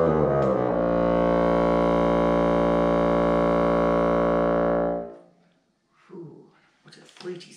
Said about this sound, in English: When it's on the instrument, the low notes I can play sound like this.